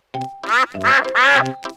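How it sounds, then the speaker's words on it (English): Cartoon ducks from Peppa Pig quack in a quick run of four or five loud, nasal bursts, close and clear with no talking over them. "Oh, it's the ducks. They always turn up when we have a picnic."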